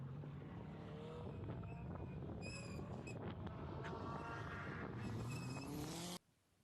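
A race car on the track at Ridge Motorsports Park during the GTA Speed Summit roars past with a rising and falling engine note and squealing tires, loud and steady for about six seconds before cutting off abruptly.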